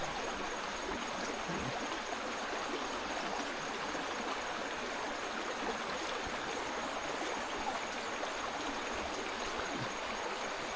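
Stream water in a rural village in Laos flowing steadily, a continuous even rushing and babbling that stays close and constant for the whole clip, with no talking.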